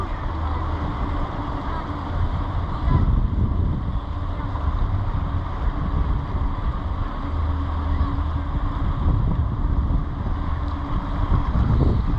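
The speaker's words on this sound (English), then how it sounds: "there's a tour boat taking everybody out to see the sunset" Steady low engine rumble of a sunset tour boat on the water, mixed with wind buffeting the microphone, continuous throughout.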